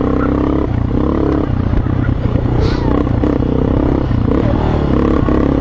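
Yamaha motorcycle engine and stock exhaust roar steadily and loudly while riding in third gear, with a constant rumble and some rattling, up close throughout.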